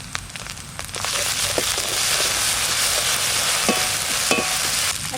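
A paste of ginger, garlic, chilli and cumin fries in a pan with onion over a village-style fire, giving a loud, continuous crackling sizzle close up, with occasional stirring scrapes.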